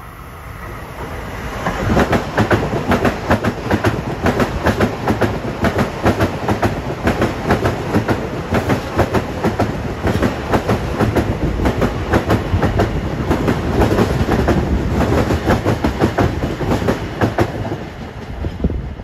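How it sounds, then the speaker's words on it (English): A Long Island Rail Road train, number 758 from Penn Station to Hempstead, passes Elmont station at evening rush hour, a loud continuous roar with rapid clickety-clack of wheels over rail joints for most of the pass. "Next up at 509 is train 758 from Penn Station to Hempstead"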